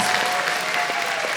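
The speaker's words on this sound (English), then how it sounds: "Can I get a test applause right now?" A convention crowd at the Further Confusion fursuit dance competition gives a short, dense burst of test applause, loud, continuous clapping with a steady tone running underneath.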